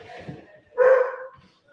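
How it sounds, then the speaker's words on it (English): A dog barks in the background indoors, a single short bark rising out of quiet room tone, moderately loud, while a person is speaking nearby. "Sorry, got the dog barking in the background."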